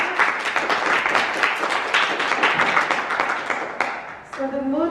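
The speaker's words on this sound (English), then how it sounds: "Give yourselves a round of applause" A school audience of Year 4 pupils applauds debate speakers with dense, sustained clapping that fills the room, then fades toward the end as a voice begins.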